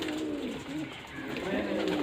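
Steady, close cooing from a crowd of pigeons of many breeds in a loft, overlapping throaty calls running without a break, with faint talk in the background.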